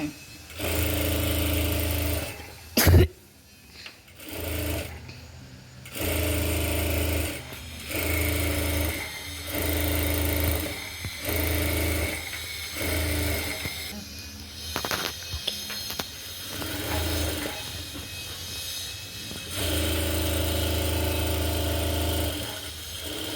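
A sewing machine stitches a blouse lining onto the blouse piece in repeated short bursts, its motor whirring in stop-start runs with brief pauses between passes.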